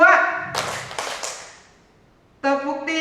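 A group of women in a training session clap together on cue: a few sharp, unison claps in quick succession, bracketed by a voice speaking just before and right after.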